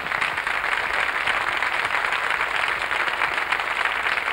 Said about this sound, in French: On peut applaudir ce que vous venez de faire aussi.